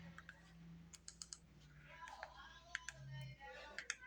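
Faint typing on a computer keyboard, with scattered light clicks at an uneven pace over a low background hum, close but quiet.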